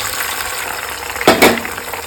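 Capsicum frying in hot oil for restaurant-style fried rice, a steady close hiss of sizzling with a brief louder splash and crackle of stirring partway through.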